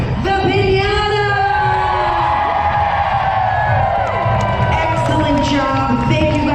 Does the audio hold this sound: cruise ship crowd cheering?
yes